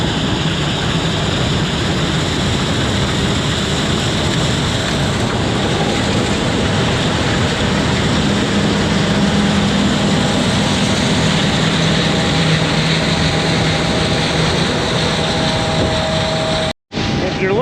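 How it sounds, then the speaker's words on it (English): Steady, loud engine roar and mechanical drone of a running combine harvester heard from the cab, unchanging throughout with a brief dropout near the end. "riding a combine with my dad"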